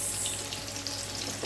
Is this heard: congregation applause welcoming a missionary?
no